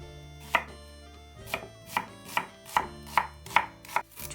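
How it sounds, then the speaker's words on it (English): An onion is chopped into chunks with a knife on a board, about eight crisp, evenly spaced cuts ringing out close and clear with nothing else heard. "cut into chunks 1 green chili"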